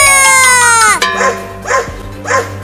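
In a cartoon, after a long falling tone, a dog barks three times at a steady pace, loud and close.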